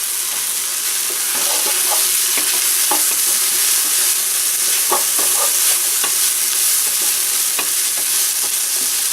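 Onions fry in a pan with a bright, continuous sizzle, broken by repeated scraping clicks as they are stirred, close up and without talk.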